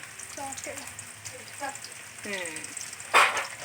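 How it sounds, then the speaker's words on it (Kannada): Onions fry in a pan for egg rice, a steady low sizzle that runs beneath a person talking, with a brief louder burst of stirring near the end. "ಇನ್ನೊಂದೆರಡು ಈರುಳ್ಳಿ ಹಾಕತ್ತಾನೆ."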